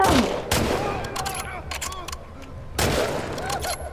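Gunfire in The Last of Us Part II, sharp bursts of shots near the start and again around three seconds, with scattered reports and a voice shouting between them.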